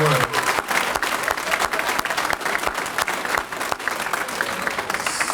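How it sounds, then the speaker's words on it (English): A room full of guests at a Boy Scouts distinguished citizens awards dinner claps loudly and continuously, a steady wash of applause with some crowd noise mixed in. "What a round of applause for all their work."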